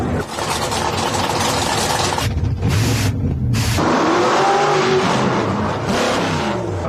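Pro Modified nitrous drag race car engine roaring loud and close at full power, dropping out briefly in two short gaps before surging back and holding a heavy, sustained blare.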